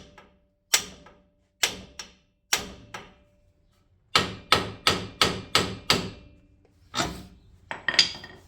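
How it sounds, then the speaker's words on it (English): Heavy hammer blows striking the side of a Ford Raptor steering knuckle to break the tie rod free: sharp, loud, close impacts, a few spaced single hits and then a fast run of about eight strikes, no talk. "we're going to hit the side of the knuckle where the tie rod goes in. We're going to hit that until this breaks free."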